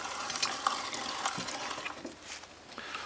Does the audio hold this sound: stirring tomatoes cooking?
yes